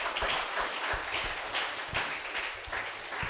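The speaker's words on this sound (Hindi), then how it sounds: "जोरदार ताली देंगे यीशु के लिए।" A church congregation claps at a worship service, a dense, moderately loud stretch of applause with some individual claps standing out and a faint voice underneath.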